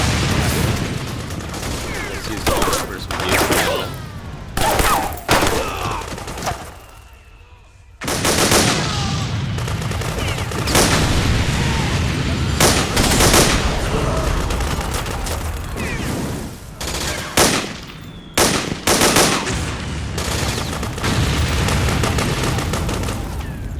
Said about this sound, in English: Time to switch to P90.